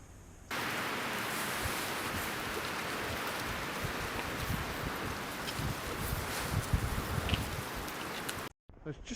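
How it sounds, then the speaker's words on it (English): Steady wind rushing over the Swift River in March before a blizzard, a broad, even roar that runs unbroken for most of the stretch and then cuts off briefly near the end. "There's just enough wind to every now and then break up the surface a little bit"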